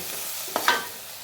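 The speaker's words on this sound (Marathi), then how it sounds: "कांदा आणि टमाटर आपलं बघा किती छान मस्त सगळं भाजलं गेलं ह्या तेलामध्ये" Onion and tomato frying in oil in a pan, with a couple of brief spoon scrapes over a soft, steady sizzle at moderate distance.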